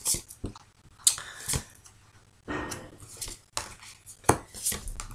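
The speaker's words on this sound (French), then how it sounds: "il y a un petit peu de bruit chez moi parce que j'ai mon fils qui me range la vaisselle" Plates and cutlery clattering as dishes are put away in a home kitchen, a string of irregular clinks and sharp knocks with short pauses between them, moderately close and heard alone.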